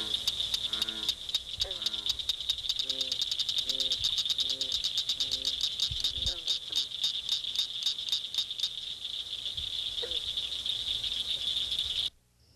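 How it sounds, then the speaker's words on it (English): Rapid clicking calls of a cricket frog in a fast, accelerating series, over a constant high insect trill, with deep bullfrog calls sounding farther back. "You'll also hear a bullfrog calling in the background."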